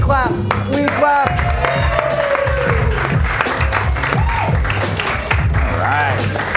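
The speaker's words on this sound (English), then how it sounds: "Give yourselves a round of applause." Audience at an improv comedy show breaks into sustained, loud applause and clapping that fills the room, with voices and crowd noise mixed in throughout.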